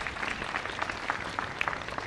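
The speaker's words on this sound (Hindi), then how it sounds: "इनका तालियों से स्वागत करें।" Applause from an audience welcoming a top-grade All India Radio artist at a Legends of India morning ragas concert, a dense patter of clapping at moderate distance, fairly quiet and steady.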